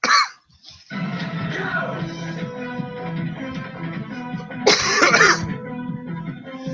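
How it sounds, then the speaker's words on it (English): Repeated throat-clearing coughs sound close over a steady background of music, with a loud burst near the end. "Ever have a coughing fit before you go live?"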